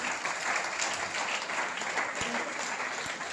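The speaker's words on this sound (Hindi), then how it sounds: "तो अगर आप चाहते हैं कि ईमानदारी बढ़े तो थोड़ा तालियों का घनत्व भी बढ़ाइए" Steady applause from an audience at a Jain poetry gathering (kavi sammelan) held at a temple in Surat, a dense wash of clapping filling the room continuously without voices.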